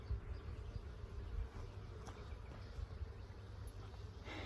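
Honey bees buzz steadily around an open beehive during a hive inspection, a dense, continuous hum close by with no talking.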